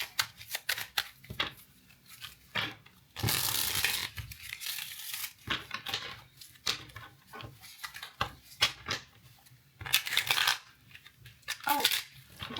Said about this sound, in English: I'm going to shuffle the tarot deck and pull out a card for each topic